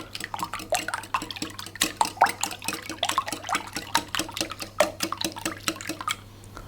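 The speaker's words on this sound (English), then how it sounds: "I'm just going to whisk those to break the eggs up" Milk and eggs are whisked together in a bowl for carrot banana muffin batter, giving a steady run of quick, close clinking strokes against the bowl with no talking.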